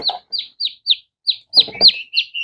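Big 6 turkey poults chirp in a brooder, a run of about ten sharp, high peeping calls in quick succession, close and fairly loud, with a brief muffled rustle partway through.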